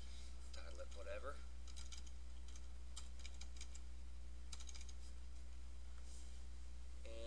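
Typing on a computer keyboard while naming an email signature in Outlook 2003, short bursts of quick key clicks with pauses, fairly faint over a steady electrical hum, with a voice briefly audible.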